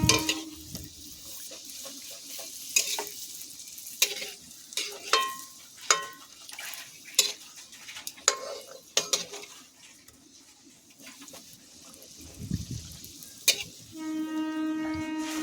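Palm-fruit luchi fry in oil in a pan, a low steady sizzle broken by repeated sharp clanks and scrapes of a utensil against the pan, with a quieter stretch before the stirring resumes.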